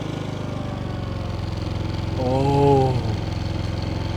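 A Predator 5000 dual fuel generator runs steadily with a low, even engine drone, its pitch swelling briefly midway as the throttle setting changes; a short exclamation is heard.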